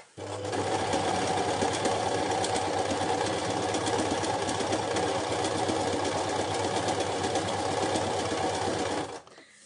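A sewing machine runs steadily for about nine seconds, stitching a strip of fabric with long stitches to gather it; the motor hum and rapid needle rattle are loud, close and continuous, then stop abruptly, with no talk.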